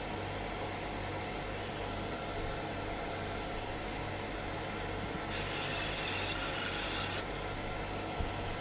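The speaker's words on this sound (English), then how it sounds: "So I'm going to mark this part just to see how it looks." A fiber laser marking machine marks a part in a short burst of bright hiss that lasts about two seconds, heard over a steady fan hum in a quiet workshop.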